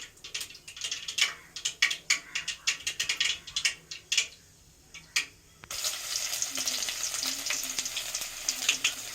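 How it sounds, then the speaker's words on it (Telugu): Mustard seeds crackling in hot oil for a fish roe fry, with dense irregular pops close by that give way to a steady loud frying hiss, no talking. "ఇప్పుడైతే ఆవాలు అయితే పగులుతూ ఉన్నాయి."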